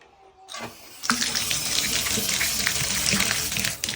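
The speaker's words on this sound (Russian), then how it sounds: "Напор воды вообще отличный." A tap turns on and water gushes steadily into a sink in a tiled apartment bathroom in Osh, Kyrgyzstan, a strong continuous splashing stream.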